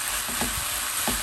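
Zucchini and chicken sizzle and fry in a pan while being stirred, with two or three clear scraping strokes of a utensil over a steady, close crackle; no one talks.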